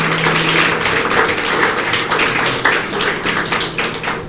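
A church congregation applauding during a Spanish-language anniversary service, steady dense clapping close and loud throughout, with a few sharper taps standing out.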